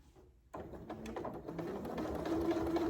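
A Janome Memory Craft MC9450 sewing machine starts up after a near-silent moment and runs steadily, a rapid mechanical chatter of stitching that continues and grows slightly louder.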